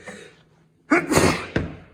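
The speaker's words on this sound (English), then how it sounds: "Excuse me, I'm going to sneeze." A single sharp sneeze bursts out close by after a quiet pause, followed by a brief breathy exhale.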